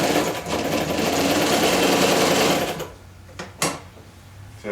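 A German SAALFELD (Knoch) straight-stitch sewing machine stitches fabric in a loud, fast, even whir for nearly three seconds, then stops, leaving a couple of short clicks and a brief burst near the end.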